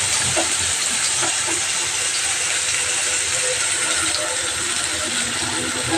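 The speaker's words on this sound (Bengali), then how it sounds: "মিক্সিটাকে ভালো করে দিয়ে নিই" A kitchen mixer grinder runs continuously, blending leaves with garlic and chilli into a paste. It makes a loud, steady whirring hiss with faint rattling and no pauses or talk.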